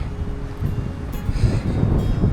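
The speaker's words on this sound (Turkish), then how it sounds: "Rüzgar kuvvetlendi bu arada." Strong wind gusts across the microphone on a nature walk in the countryside near Kuşadası, a loud continuous rushing roar with fluctuating low buffeting throughout.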